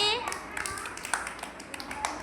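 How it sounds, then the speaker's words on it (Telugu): A group of children clap briefly during a classroom colour hunt game, a few scattered quick claps under an adult's speaking voice, close and moderately quiet. "క్లాప్స్ కొట్టండి"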